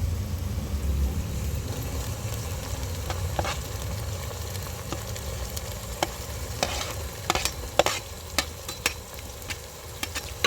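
Tomatoes and onions fry in a pan of oil for a small-fish curry. A steady, close sizzle runs throughout, with scattered clicks and scrapes of stirring toward the end.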